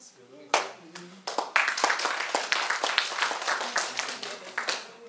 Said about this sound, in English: That's all the applause, seriously?